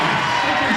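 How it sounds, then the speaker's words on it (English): Dense, loud roar of rival student sections cheering together at a high school basketball section semifinal, a continuous wash of voices with no breaks. "both student sections cheering at about equal volume level."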